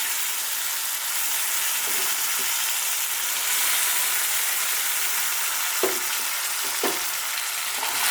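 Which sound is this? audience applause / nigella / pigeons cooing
nigella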